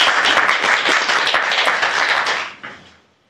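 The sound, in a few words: audience applause for a speaker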